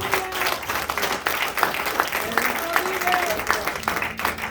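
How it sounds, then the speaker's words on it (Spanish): A church congregation applauds in a crowded, steady patter of clapping lasting several seconds, with voices rising over it during the sermon. "Dele palmas al Rey"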